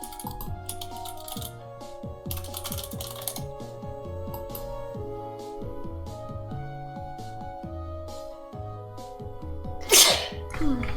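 A single sharp sneeze bursts out near the end over soft background music and light clicking, loud and close.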